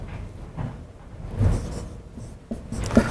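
Marker or chalk writes a solution on a classroom board, producing soft, irregular scratching strokes, close and quiet, with no talk.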